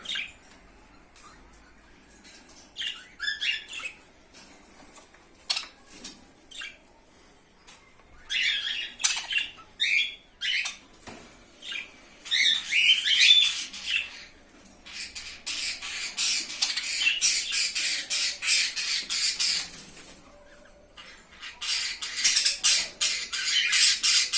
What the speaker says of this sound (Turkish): Burada da bu kuşlarımız var.